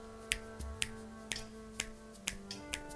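Finger snapping, seven sharp crisp snaps spaced at irregular intervals over a faint sustained tonal background, close and clear with no talk.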